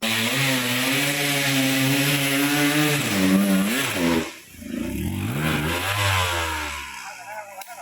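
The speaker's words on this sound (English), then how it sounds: "I can tell that Pilar's bike is not running right" A motorcycle with a worn engine that lacks power and is due for a rebuild revs loudly and unevenly on a jungle trail in Thailand, dips out abruptly, then runs again more roughly.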